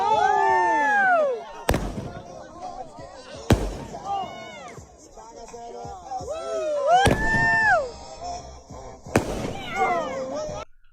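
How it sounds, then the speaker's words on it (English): Fireworks going off in a series of sharp, loud bangs spaced a couple of seconds apart, each followed by crackling bursts, with whistling, wavering tones running between them and through the whole stretch. "every time I see fireworks going off"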